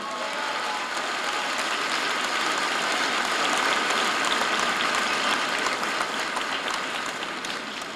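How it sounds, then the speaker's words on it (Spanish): Sustained, dense applause from a large audience at a Mexican senator's speech and accountability event, steady and even throughout with no voices over it. "Aplauso para Raúl Morón."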